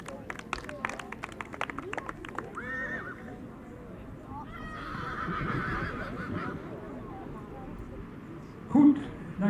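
Horse whinnying at a studbook inspection day, a loud neigh cutting in near the end over ongoing crowd murmur and announcer talk, with hoof clatter and distant background bustle.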